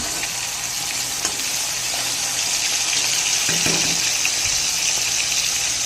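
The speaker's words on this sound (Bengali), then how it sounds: "মাছ ভাজা হচ্ছে, এখানে আরও মাছ আছে।" Fish fries in a pan with a continuous loud, close sizzle and crackle, a few faint utensil knocks mixed in, running steadily throughout with no talking.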